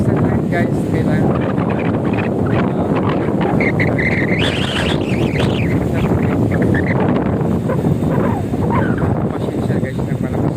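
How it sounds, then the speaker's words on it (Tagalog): Strong wind gusts buffet the microphone beside Sampaloc Lake in Laguna, a loud, steady roar that persists for the whole stretch, with voices faintly mixed into the din. "pasensya guys ng malakas ng hangin"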